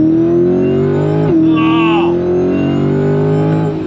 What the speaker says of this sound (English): Second gear, if you're ready, I'm ready. On throttle, here we go.